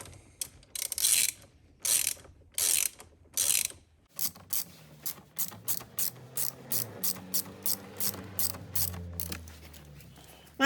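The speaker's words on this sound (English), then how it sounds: "Tighten these up." A ratchet clicks while tightening steering wheel bolts on a Cadillac CT5, first in a few long bursts of rapid clicking, then in a quicker series of short ratcheting strokes, close and alone.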